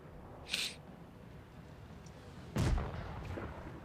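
Tank gunfire and artillery from a World of Tanks Blitz clan-war match: a sharp distant shot, then a heavy booming blast with a rumbling tail, over a low background, no talk.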